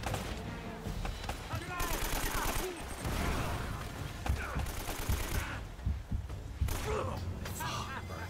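Gunfire in the video game Uncharted, bursts of automatic and single shots with mechanical clatter, under a voice talking throughout.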